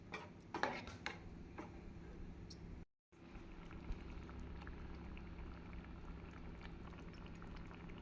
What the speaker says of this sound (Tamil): தண்ணீர் ஊற்றி நன்றாக கொதி வரவும்